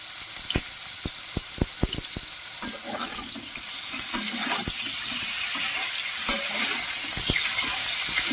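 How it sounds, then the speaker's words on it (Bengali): Cauliflower florets frying in oil until lightly browned, a steady close sizzle with a series of sharp utensil clicks and scrapes near the start and scattered stirring knocks later. "ফুলকপিগুলো আমার ভাজা হয়ে গেছে একটু ব্রাউন কালার ভেজে নিয়েছি"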